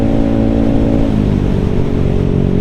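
A 213cc scooter fitted with performance parts revs loudly and close, its engine note holding steady and then dropping slightly in pitch, with no talk over it.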